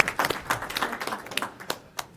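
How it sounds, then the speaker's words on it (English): Brief scattered clapping from a small group at a Sacramento transit board meeting, light and uneven, heard alone without talk. "give him a round of applause, please."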